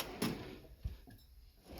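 A wrench drawer in a metal toolbox slides open, giving a quiet rolling rumble with two soft clunks close by.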